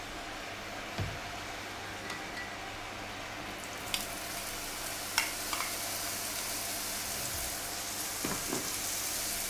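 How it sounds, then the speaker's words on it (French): Zucchini sautéing in olive oil in a hot pan, giving a steady, close sizzle with a few soft knocks and scrapes of a utensil. "Une fois les poivrons sautés, faites la même chose avec les courgettes."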